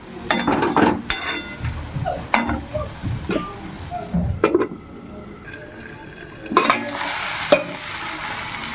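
Mushroom curry cooking in a pan, with scraping stirring clatter, utensil knocks and a steady sizzle running underneath, loud and close throughout, with sharper pan clinks near the end.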